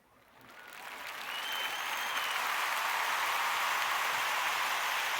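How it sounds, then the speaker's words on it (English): A clapping sound effect swells from quiet into a full, sustained burst of audience applause, steady and dense with no voices over it. "clapping"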